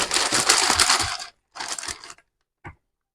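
A half-full bag of stored dry food shaken hard, two loud rustling, crunching bursts followed by a short rattle, close up with no talk.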